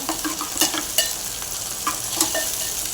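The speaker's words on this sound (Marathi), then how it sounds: "टोमॅटोही घालून घेऊया मिक्स करूया" Tomatoes sautéing in a pan for a sprouted moth bean usal, a bright sizzle broken by a few quick spatula scrapes and taps as they are stirred, close and without talk.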